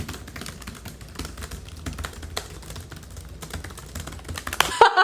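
Steady, fast typing on a computer keyboard while writing, with a continuous stream of close, light key clicks in an irregular rhythm and no talking.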